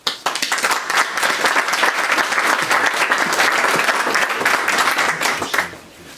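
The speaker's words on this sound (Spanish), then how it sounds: "yo creo que podemos darnos un aplauso" An audience at a book presentation breaks into dense, steady applause that holds for several seconds before tapering off quickly.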